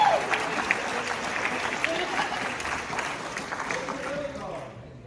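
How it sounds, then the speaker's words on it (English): A conference audience at an international expo in Washington applauds in a steady, moderate spatter that thins out and fades near the end. Faint voices sit under the clapping. "Give them a round of applause."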